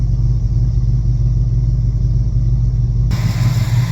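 A car engine after a Berryman B12 fuel-system tune-up idles with a steady, loud low rumble, close and constant throughout, no voices.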